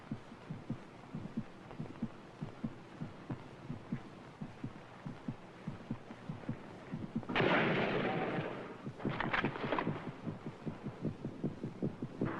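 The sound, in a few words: heartbeat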